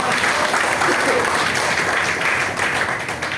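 An audience at a business presentation bursts into loud, sustained applause, a thick wash of many hands clapping at once that stays strong and even throughout, with some voices mixed in.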